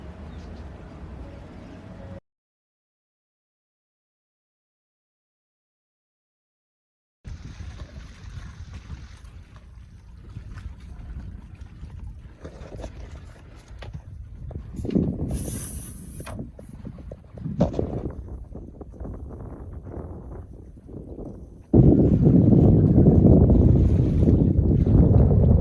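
A Columbia 22 sailboat glides over flat water on a light-breeze, sunny midwinter day, with steady wind rush and soft water and hull noise, a silent gap early on, and louder buffeting wind toward the end.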